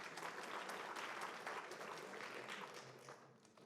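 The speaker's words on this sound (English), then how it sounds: "Give him a round of applause." Steady applause from a tournament audience, dense and even, fading slightly toward the end.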